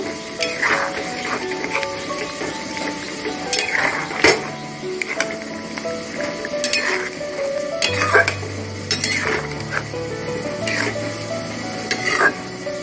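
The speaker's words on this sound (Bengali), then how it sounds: "পোস্তটা দিয়ে আমি একটু নাড়িয়ে নেব" Poppy seed paste being stirred into rohu fish curry in a pan over low heat, with repeated scraping and clinking of a utensil against the pan under a faint simmer.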